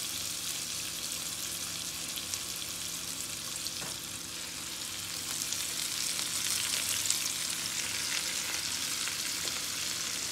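Collard greens sizzle and fry in a pot in a steady, close crackling hiss that swells slightly partway through, with occasional stirring; nobody talks.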